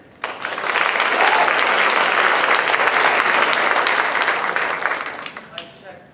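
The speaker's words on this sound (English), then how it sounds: "you guys have been clapping for this whole first half of the show" Sustained applause from a talent show audience in a university hall, rising quickly and holding steady for several seconds before tapering off near the end.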